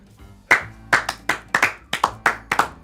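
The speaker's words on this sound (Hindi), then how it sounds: "तालियां बनती है इसके लिए।" Slow, deliberate hand clapping, about a dozen sharp claps in an uneven rhythm, close and distinct against a quiet background.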